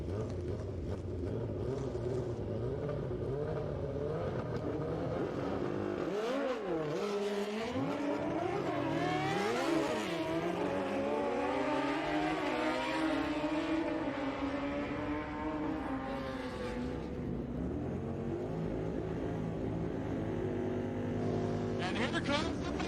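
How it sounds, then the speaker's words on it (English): A pair of nitrous-assisted Suzuki Hayabusa drag bikes, one on a street tire and one on a slick, at a street outlaw drag race; high engine revs climb and sweep in pitch, loud and sustained, over announcer talk. "Another pair of nitrous assisted Hayabusas."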